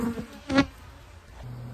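Honey bees buzz near the microphone as an amateur beekeeper boxes a swarm, a steady insect drone with a louder burst midway before easing to a lower hum.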